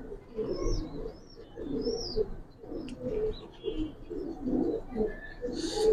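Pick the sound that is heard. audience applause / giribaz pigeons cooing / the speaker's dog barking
giribaz pigeons cooing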